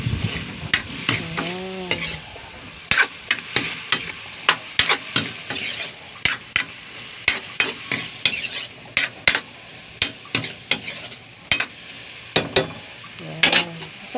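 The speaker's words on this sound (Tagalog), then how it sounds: "Yan, haluin na natin." Sautéed bottle gourd with glass noodles being stirred in a pan, rhythmic sharp utensil scrapes and clanks repeating over a faint sizzle, with a voice speaking briefly.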